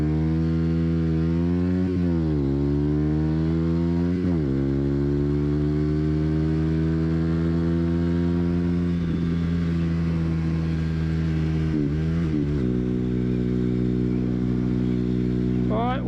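Aprilia RS4 and Suzuki GSX S750 motorcycles on a group ride give a loud, steady engine drone heard from on board, with the pitch climbing and dropping through several gear shifts and revs.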